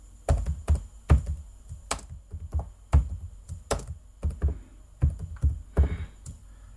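Keys struck one by one on a computer keyboard as a name is entered, a steady series of distinct, close thunks and taps with brief pauses between them.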